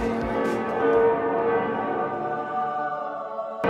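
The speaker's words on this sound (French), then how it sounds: "mais ces cloches, ça s'arrête jamais" Bells of Notre-Dame cathedral in Paris ring out, a loud struck peal that swells and then rings on in a long fading hum, with no voices over it.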